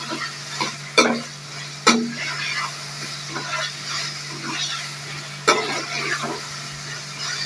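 Tinde and tomatoes sizzle in a pan while a spoon stirs and scrapes, with a few sharp metallic knocks against the pan over a low steady hum, close and without talk.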